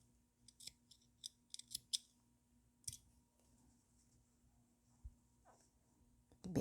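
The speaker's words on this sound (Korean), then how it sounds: "그대로 실 잘라줍니다" Scissors snip through crochet yarn after a finished round on a fruit-shaped dish scrubber, giving a few quick, close, faint crisp cuts in near silence.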